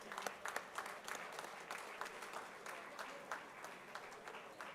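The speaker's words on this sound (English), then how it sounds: "A huge round of applause for all the achievers" An audience at a university achievers' day ceremony in Visakhapatnam claps steadily for a few seconds, a dense patter of many hands heard from within the hall.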